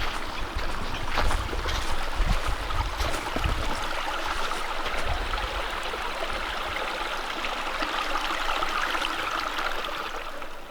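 A small brook flows under an old colonial stone bridge along a hiking trail in Ashby, Massachusetts, a steady close rushing and trickling of water that continues without pause and without talk.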